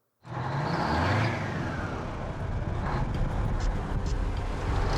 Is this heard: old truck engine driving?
yes